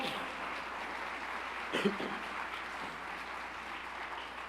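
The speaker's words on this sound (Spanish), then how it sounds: "Dele palmas al Señor." A church congregation claps at a worship service, a faint, soft, far-off patter running steadily throughout, with a brief louder knock or voice near the two-second mark.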